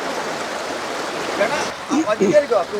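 Water runs at a stream mouth where prawns gather, a steady broad rush that fills the first half, then continues beneath a person talking.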